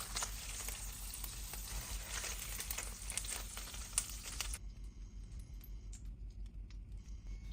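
Ginger garlic paste and onion sauté in a pan used for a sea bass and tofu stew, giving a steady close sizzle and crackle that cuts off after about four and a half seconds, leaving a quiet low hum.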